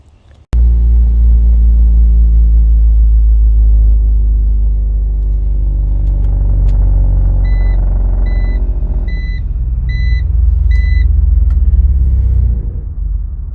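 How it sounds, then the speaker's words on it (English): A 2006 BMW X3 E83 with a vibration fault gives a loud, steady low rumble throughout, with a short run of evenly spaced electronic beeps partway through. "The problem with this car is it makes a lot of vibration."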